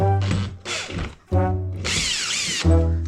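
A power drill bores into a wall, hitting brick behind, to make holes for molly anchors while hanging bikes; three loud bursts of harmonic motor whine separated by short pauses, the last a longer run with rising grinding pitch, close up.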